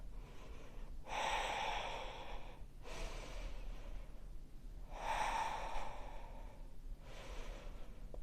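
Slow, deep breaths during a yoga flow: two long audible inhale-exhale cycles, each a breathy rush of air lasting a couple of seconds with quiet pauses between, close to the microphone.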